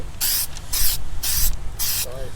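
Four short bursts of Plasti Dip sprayed from an aerosol can onto the chrome of a RAM 1500 truck outdoors, each a loud, close hiss separated by brief pauses.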